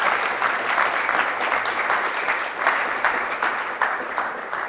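Studio audience applauding warmly at the opening of an Italian TV show, a steady, dense clapping wash that fills the whole stretch without pause.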